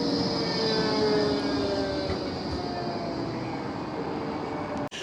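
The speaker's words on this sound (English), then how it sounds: "Here comes a tram." Blackpool tram running along the seafront, a steady rolling rumble with a faint high whine, fairly close and continuous with no voices.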